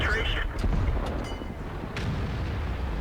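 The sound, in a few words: tank gun firing shells in World of Tanks video game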